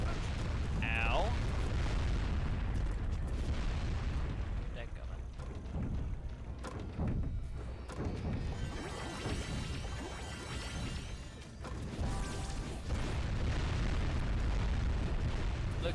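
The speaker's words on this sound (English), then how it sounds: "Look at all those explosions." Heavy explosions go off in the video game Jak and Daxter: The Precursor Legacy, with deep rumbling booms and bursts that carry on steadily for the whole stretch over a continuous game soundscape.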